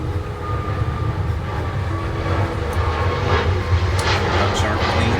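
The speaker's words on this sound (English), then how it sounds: "The airplanes are louder today than normal because it is raining." Airplanes pass overhead on a rainy day, a broad low roar that swells and grows denser toward the end, steady and fairly loud, with faint background noises under it.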